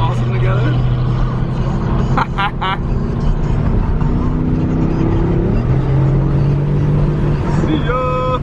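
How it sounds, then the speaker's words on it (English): A Corvette Z06 sports car cruises on a highway, giving a steady low engine and road drone throughout, with brief snatches of voice rising over it. "Just cruising with the Z06."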